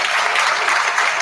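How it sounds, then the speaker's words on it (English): Audience at a municipal board meeting clapping, a short dense burst of applause filling the room with no talk over it. "I'll ask for a round of applause for the work that's been done."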